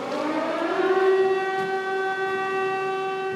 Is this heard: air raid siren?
yes